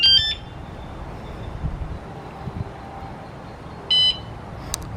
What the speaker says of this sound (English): you heard a little beep or tone that shows it received a signal